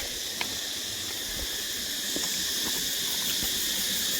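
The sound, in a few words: cicadas buzzing loudly, near Ba Ho, Vietnam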